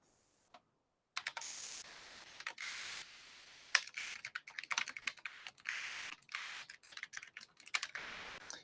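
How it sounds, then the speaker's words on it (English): Clicky mechanical keyboard with blue switches typing up close, rapid crisp keystrokes in irregular bursts after a short silence. "Okay, and now we'll go with the blues."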